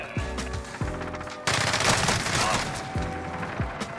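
Gunfire in the shooter Modern Warfare: a few sharp separate shots, then a loud dense burst of rapid automatic fire lasting over a second, followed by more single cracks, all close and loud.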